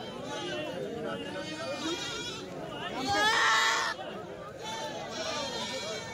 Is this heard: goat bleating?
yes